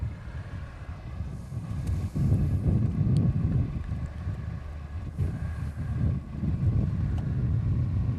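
Wind gusts catch a sunshade outdoors, producing a continuous low rumbling buffeting with uneven swells and faint flapping, fairly close, no talk.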